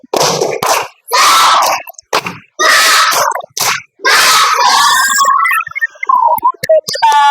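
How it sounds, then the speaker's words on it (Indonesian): A classroom of children performs a lively rhythmic clapping chant, bursts of loud shouted voices and claps in quick rhythmic groups, ending with a higher whistle-like tone and scattered sounds. "ayo tepuk semangat"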